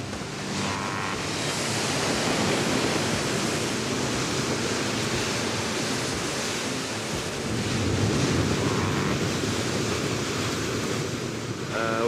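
Powerful sea waves break and wash over a black lava shoreline in the Azores, a steady, loud roar of surf with rolling swells and wind that persists throughout without any voices.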